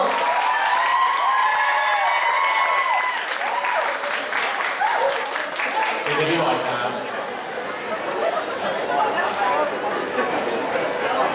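A studio audience cheers and applauds, a dense, steady patter of many hands mixed with crowd chatter and voices, loud and close, with some talking over it partway through.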